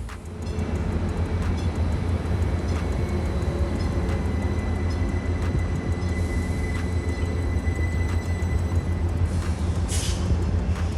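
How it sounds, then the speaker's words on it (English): Stadler FLIRT commuter train number 3401 pulling into a station on track 2, a steady low rumble of motors and rolling wheels, with faint brake hiss and a brief sharp burst near the end. "our train's inbound service from Redlands pulls in not 30 seconds later. Coming to a stop on track 2 is Stadler FLIRT number 3401"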